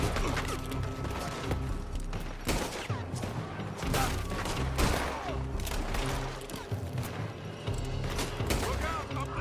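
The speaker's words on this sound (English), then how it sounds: "They're shooting from that building." Gunfire coming from a building in the Red Dead video game: rapid, overlapping rifle and pistol shots in a sustained fusillade, with loud cracks spread across the whole stretch and occasional mechanical clatter.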